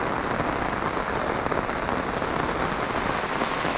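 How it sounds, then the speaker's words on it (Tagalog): Steady heavy rain falls on a surface close by, a dense even hiss with pattering drops that never lets up and has no voices over it. "Inabot pa ng ulan ah."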